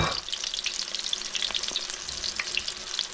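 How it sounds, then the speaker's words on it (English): Artichoke hearts frying in hot oil, a dense, continuous bright crackle and sizzle with small popping bursts throughout, close and steady, no voices. "I'm going to fry the rest of these"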